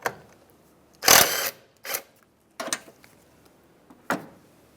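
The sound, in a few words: loosening the battery hold-down crossbar nuts on a Mazda CX-9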